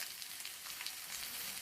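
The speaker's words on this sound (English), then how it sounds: "see, on slow flame how nicely they are getting roasted" Aloo tikki potato patties sizzle steadily as they roast in a pan on a slow flame, with a close, continuous crackle and no voices.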